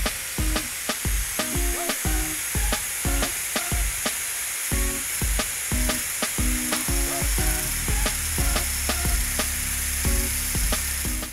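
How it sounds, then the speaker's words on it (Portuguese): An angle grinder cuts a V notch into a nut clamped in a vise for a homemade drill-bit sharpener, giving a steady abrasive whine broken by repeated rhythmic surges as the disc bites the metal, close and loud with no talking. "E com a esmilhadeira, vamos realizar aqui o corte em cima da marcação."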